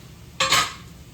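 Pasta, vegetables, meat and sauce are stirred together in a pan for a home family dinner, giving one brief close scrape and clatter of utensil against the pan.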